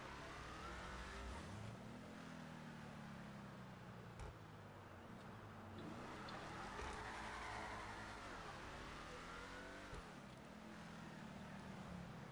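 Car fitted with Corvette exhaust in GTA V, a revving engine rising and falling through repeated gear changes, steady and close with no talk.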